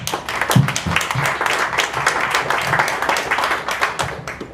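Attendees at a West Brookfield community master plan meeting give a round of applause, close and fairly loud clapping from a small group, with a few distinct claps standing out early and the sound continuing steadily.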